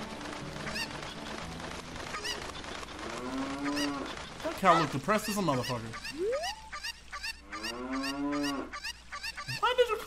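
Cow moos from the video game Zelda: Ocarina of Time, several drawn-out lowing calls with rising and falling pitch, loud and close, over a quiet game background while someone talks.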